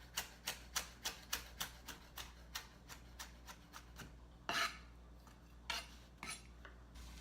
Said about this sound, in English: So I'm going to slice this and then chop it in small pieces.